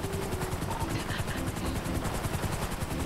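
An aircraft flies overhead in the video game GTA 5, its rapid rhythmic rotor-like chopping steady and fairly loud throughout, over a low engine rumble.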